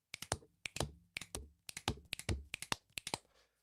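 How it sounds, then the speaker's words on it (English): Hands beat out a snap, snap, clap rhythm, sharp close percussive cracks repeated in quick groups of three over several cycles, alone without talk. "Snap, snap, clap."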